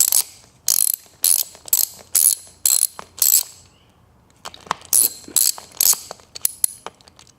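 A wheel bolt is undone and removed with a ratchet, giving loud, close bursts of rapid clicking in a steady rhythm, then a looser run of shorter clicks and taps as the bolt comes free.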